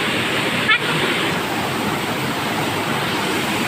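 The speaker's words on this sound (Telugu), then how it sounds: "చూడండి ఫ్రెండ్స్ మా వాటర్ ఫాల్ ఎలా ఉందో" The Lidangi waterfall, a steady broadband roar of falling water that stays loud and even throughout, with a brief faint chirp near the start.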